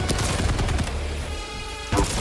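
Sniper rifle fire in a video game: loud, dense shot bursts at the start and again near the end, with a brief quieter ringing tail between.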